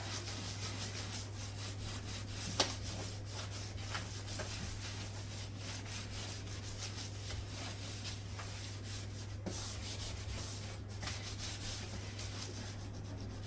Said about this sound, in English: I'm going to use a damp sponge. And I'm going to use the grittier side.